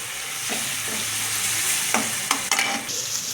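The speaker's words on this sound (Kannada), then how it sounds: "ನೋಡಿ, ಈ ಥರ ಫ್ರೈ ಮಾಡ್ಕೋಬೇಕು." Turmeric and tomato fry in a pan for puffed rice susla, a close, steady sizzle broken by a few sharp scraping stirs of a spoon toward the end, with no voice.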